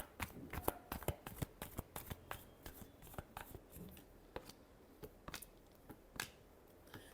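Tarot cards are shuffled by hand in a quiet room for a love reading, giving a close, brisk run of crisp riffling snaps and flutters at an uneven rhythm, with no talking.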